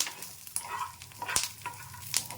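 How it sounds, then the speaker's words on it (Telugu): Peanuts crackle and pop in a hot pan as they roast for chutney, with scattered sharp snaps over a soft sizzle and occasional stirring scrapes. "ఇంత చిట్టుపట్లు ఆడుతూ ఉంది అని అంటే మనకు వేగుతున్నాయని"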